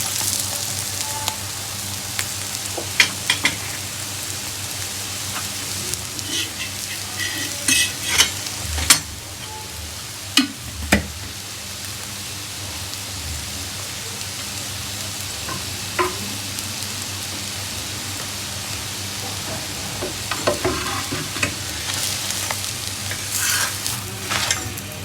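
An egg paratha browns in a pan with a constant low sizzle. Scattered clinks and taps of a utensil against the pan break in now and then, and there is no talk.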